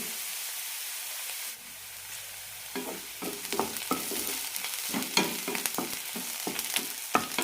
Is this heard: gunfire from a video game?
no